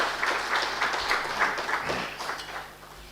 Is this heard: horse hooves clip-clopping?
no